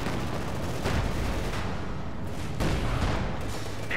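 An anti-tank gun and artillery firing in the World War II strategy game Company of Heroes, with two heavy booming shots about a second and a half apart over constant battlefield rumble, no talk.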